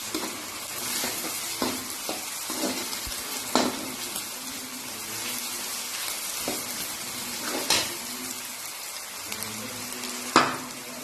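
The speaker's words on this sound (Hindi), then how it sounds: "अदरक लहसुन भी साथ में भून लूँगी।" Ginger-garlic paste fries with onions in a hot pan, a steady close sizzle broken by scraping stirs and occasional clatters of the spoon against the pan.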